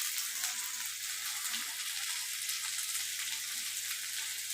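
Potatoes, onions, garlic and chili fry with turmeric in a pan, giving a steady, close, even sizzle that holds from start to finish without any talking.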